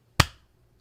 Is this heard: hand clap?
yes